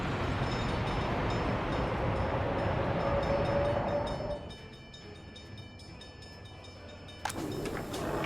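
Rumbling roll of a train in the city-building game Workers & Resources: Soviet Republic, loud and steady before fading into a quieter hum, then a sharp clank near the end.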